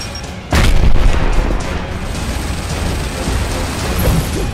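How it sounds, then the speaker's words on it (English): A frag grenade goes off in Gears of War with one sudden loud boom, followed by a sustained rumbling, mechanical battle din that carries on for several seconds with no speech. "let me see if I can get in closer and throw this grenade. Frag out!"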